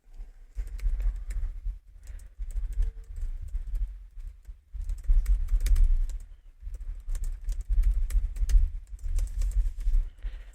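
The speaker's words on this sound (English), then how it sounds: "I'm typing to her, like, more details." Close, quick clicking taps of someone typing a message, coming in uneven bursts with short pauses between, and no one speaking.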